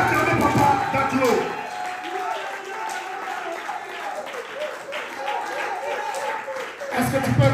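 A church congregation applauding and cheering at a service, sustained clapping from a large crowd throughout, with someone talking loudly over it.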